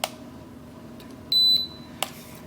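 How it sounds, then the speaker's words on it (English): A single short, high-pitched electronic beep from a GD93 GPS drone remote control during calibration sounds clearly over a quiet room hum, bracketed by a couple of soft clicks. "It beeps."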